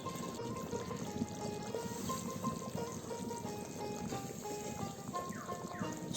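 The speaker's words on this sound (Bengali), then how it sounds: "জল দিয়ে সব কিছু ভালো করে ফুটিয়ে সেদ্ধ করে নেবে" Water poured into a pot for Bengali bhoger khichuri, a continuous splashing pour and liquid gurgle at moderate distance, fairly quiet and steady.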